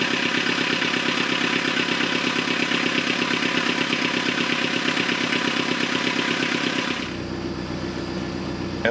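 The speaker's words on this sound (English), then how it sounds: "And that's the sound of the engine in gear right now." A Nordic Tugs 26 boat's engine idles in gear with a steady, even mechanical throb, fairly loud and close, shifting to a slightly softer tone near the end.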